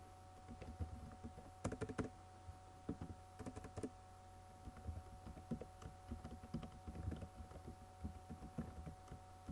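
Keys clack on a computer keyboard in scattered bursts of quick typing, close and fairly quiet, over a faint steady hum.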